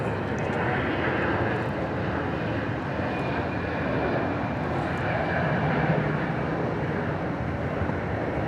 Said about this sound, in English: We have another plane lining up for takeoff here.